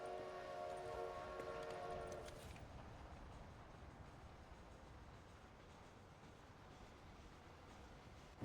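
Train in the video game Red Dead Redemption: a faint steady rumble of rolling rail cars, with a brief tonal horn or whistle in the first two seconds, distant and low.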